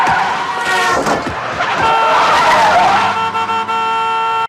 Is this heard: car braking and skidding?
yes